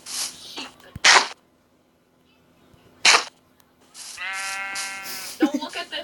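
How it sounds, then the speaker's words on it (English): Sheep bleat in Minecraft, the short wavering calls coming clearly between bursts of other game sounds, with brief silent gaps. "Wait, we got a brown sheep?"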